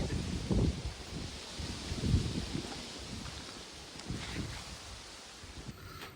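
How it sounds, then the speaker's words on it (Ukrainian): Strong gusting wind buffets the microphone in rumbling bursts, loud and close, easing slightly toward the end, outdoors in a vineyard. "сильний вітер, не знаю як буде мене чути"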